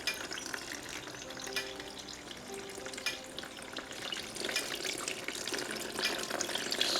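Fermented cassava pulp (puba) is rinsed with water in a steady, close wash of running and splashing water with soft stirring and sloshing throughout, quiet and without speech.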